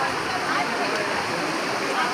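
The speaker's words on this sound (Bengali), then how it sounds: "এইটা ঝর্ণার জল।" A waterfall in Purulia pours steadily, giving a continuous broadband rush of falling water with faint voices underneath.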